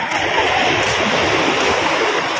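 Rough sea waves at Bagasbas beach, a continuous loud rushing wash of surf close by, with no voices.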